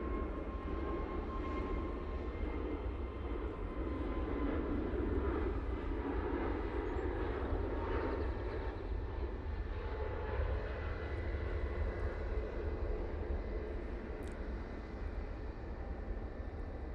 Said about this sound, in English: EasyJet now on the roll, using an A320 Neo